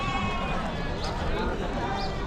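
Sheep and goats bleat at a large weekly livestock market in Chakan, Maharashtra, with a few brief bleats rising over dense, constant crowd chatter and market bustle.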